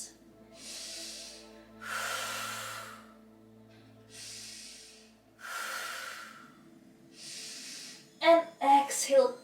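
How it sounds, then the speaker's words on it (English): Slow, deep breaths during a seated yoga twist in a Hatha class, with long, airy inhales and exhales in several even cycles, close and fairly soft, each separated by short pauses. "Take 3 full breaths."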